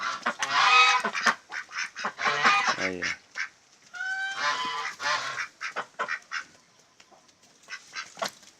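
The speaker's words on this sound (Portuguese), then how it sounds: "Pato E marrecos." Ducks and whistling ducks on a small farm give a run of loud, close honking quacks in uneven bursts, with a brief spoken word or two mixed in.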